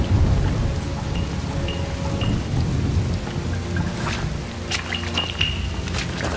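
Steady heavy rain pours with rolling, rumbling thunder beneath it, loud and continuous, with a few sharper splashes near the end, in the video game Shadow Tactics: Blades of the Shogun.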